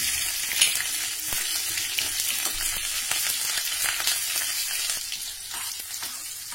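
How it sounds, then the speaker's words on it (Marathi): Cumin seeds and finely chopped green chilies sizzle in about a tablespoon of hot oil for a tempering, giving a steady, close, crackling fry with no pauses and no voices. "तेल गरम झालं की त्यामध्ये जिरं घालूया, बारीक कापलेली हिरवी मिरची"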